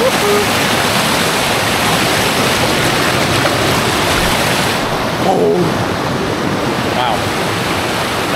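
A waterfall near a glacial lake in Alaska roars as a loud, steady broadband rush, with a brief faint voice partway through.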